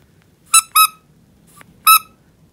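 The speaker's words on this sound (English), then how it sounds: "This one squeaks." A small squeaky Mini Foodie Roos collectible toy squeaking, three sharp, high-pitched squeaks in quick succession, two close together and then one after a short gap, close and clear over a quiet background.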